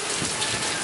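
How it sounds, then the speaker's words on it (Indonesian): Steady rain falling on surfaces at the tip of Ujung Genteng during a motorcycle ride, a dense continuous hiss, close and fairly loud, with no voices. "Dan hujan."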